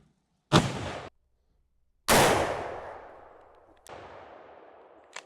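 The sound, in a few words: big bore lever-action rifle gunshot firing 225 grain bullet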